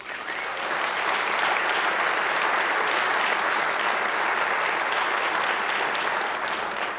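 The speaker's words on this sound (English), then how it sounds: "That deserves a big round of applause." A big round of applause at a cricket awards ceremony honours the women's cricket team for reaching a World Cup final, with dense, sustained clapping from a large hall audience that stays loud and even throughout.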